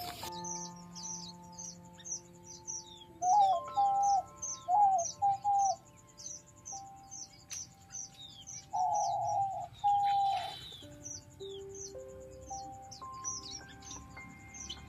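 Small cage birds and a quail in an aviary: a soft repeated cooing call and clear whistled notes over steady high chirping, fairly faint and without speech.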